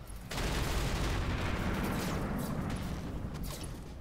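Mech weapons in the Roguetech game unload together in a dense, continuous barrage of overlapping blasts and booms that holds loud and steady for about four seconds after a brief quiet start.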